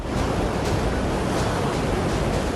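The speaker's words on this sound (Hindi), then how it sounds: "जहां भारी बारिश से नर्मदा नदी उफान पर है" The Narmada river, swollen by heavy rain and in full flood in Dindori, Madhya Pradesh, gives a steady, loud rushing roar of fast water with no break and no talking.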